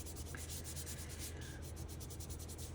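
Hands rub down both sides of a closed paper folder freshly glued to form a pocket for a file card book, a steady dry rubbing and sanding texture that runs continuously and close up, with no talking.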